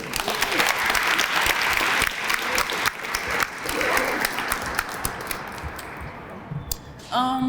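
Enthusiastic crowd applause at a Black History Month closing ceremony, dense clapping near and loud, thinning toward the end before a brief voice or shuffle cuts in.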